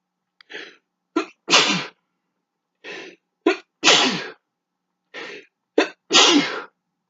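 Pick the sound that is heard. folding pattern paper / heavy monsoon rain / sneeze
sneeze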